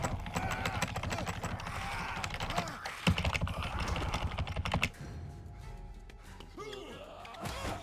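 Rapid clattering keystrokes on a computer keyboard, dense and close for several seconds before thinning out, with a few tense voices talking nearby.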